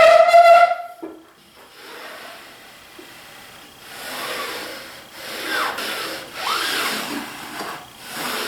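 Table saw cutting through wood on a crosscut sled, a loud whine at first that drops off, then a steady rasping, rubbing hiss of the blade as it winds down and the sled slides back, with no talk.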